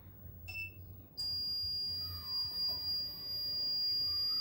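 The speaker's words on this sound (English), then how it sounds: "we'll hear the alarm from the house" A baby saver box alarm starts abruptly after a brief quiet moment, then holds as a steady, high, piercing electronic tone over a low background hum.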